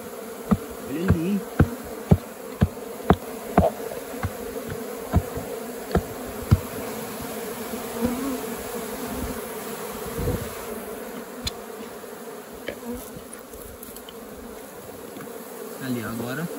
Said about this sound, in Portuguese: olha a quantidade de abelha que tem aqui em mim